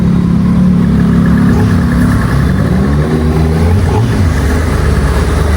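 Kawasaki Z900 2026 naked motorcycle engine revs and accelerates loudly and close, a steady mid-pitched drone with rising and falling tones through gear changes, no talk over it.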